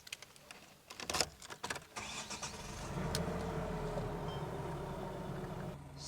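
A Nissan Navara engine cranks and catches after a few clicks and cabin rustles, then settles into a steady, even idle that continues close by.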